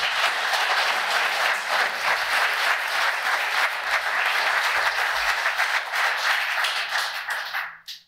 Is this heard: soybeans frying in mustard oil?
no